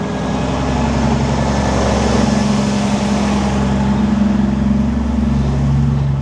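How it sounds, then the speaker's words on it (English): A car approaching as a steady, loud engine drone and road rumble that grows slightly across several seconds, with no talk over it. "There's a car approaching."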